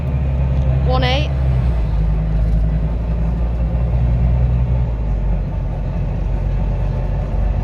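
Steady low engine rumble heard from aboard a Go North East Volvo B9TL Wright Eclipse Gemini 2 double-decker bus on route 900, continuous and fairly loud throughout, with a brief rising voice-like tone near the start.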